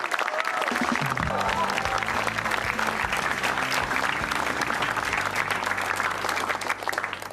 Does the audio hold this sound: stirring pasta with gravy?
no